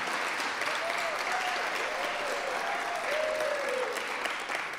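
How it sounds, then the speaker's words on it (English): An audience at an arts awards ceremony gives a steady round of applause, a dense and even wash of clapping with a faint voice or tone running underneath. "Can we get another round of applause for Mary?"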